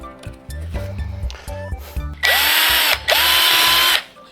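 A power drill bores holes in plastic: two loud, sustained whirring bursts with a pitch that dips and recovers under load, preceded by scattered clinks and handling knocks.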